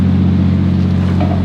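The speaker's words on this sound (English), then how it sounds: "it's got a ton more tone than the Kakimoto exhaust and just sounds exactly how a JZ should" A Toyota Chaser JZX100 with its JZ engine and no downpipe idles at close range, a loud, steady, deep exhaust drone with a strong low hum, barely changing over a short stretch.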